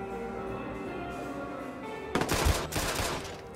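Gunfire in the video game Watch Dogs breaks out after a quiet stretch. A short burst of loud rapid shots is followed by a few more, ringing over a low steady background hum.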